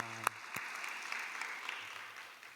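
A church congregation applauds in praise to God during a sermon, a broad, steady wash of clapping that swells and holds throughout, with a couple of sharper claps near the start.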